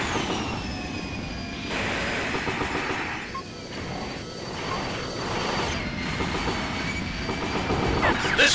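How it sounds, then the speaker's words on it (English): A train rolls in within the Armored Core video game: a loud, continuous mechanical rumble with high metallic squealing tones runs steadily throughout, with no voices over it. "train has arrived"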